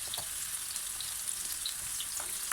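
Onion frying in a pan, a soft, even sizzle with faint crackles and occasional pops, heard alone and fairly quiet.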